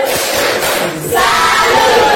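Classroom of junior high students at SMP Negeri 3 Waingapu clapping together and chanting a group salute, a loud, dense burst of voices and hand claps that swells and holds steady to the end.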